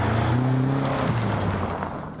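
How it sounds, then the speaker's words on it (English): A BMW M5 sedan cruising in high gear gives a deep, steady engine drone from inside the cabin, with the pitch shifting slightly as it settles. "when you're in high gear, of course, you have this very low frequency sonorous sound"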